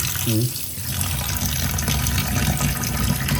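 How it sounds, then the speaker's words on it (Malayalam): Water pours onto sardines in a kitchen as a continuous gushing, splashing stream, with a brief voice near the start. "ഇപ്പം മത്തിയിൽ ലേശം വെള്ളം ആക്കി അവിടെ വെക്കാം"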